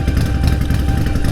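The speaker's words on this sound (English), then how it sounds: "Listen to that exhaust." Motorcycle exhaust idling loud and close, a low, throbbing rumble with rapid, even pulses that holds steady through the short stretch, with no voices over it.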